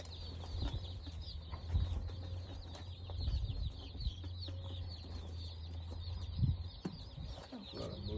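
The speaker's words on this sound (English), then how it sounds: "Who doesn't love little chickies?" Baby chicks cheep in a high, busy chorus of overlapping peeps, close and continuous over a low steady hum, with a few soft bumps and rustles.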